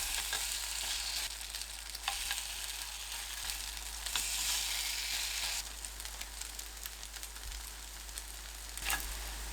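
Oyster mushroom and tofu pancake batter fries in a pan over medium-low heat, a soft, steady sizzle with faint crackles throughout and no talk.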